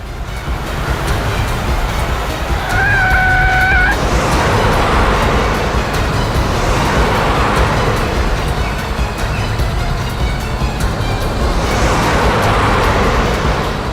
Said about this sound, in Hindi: अरे, ये दोनों गाड़ियां अलग अलग रास्ते पे चली गई।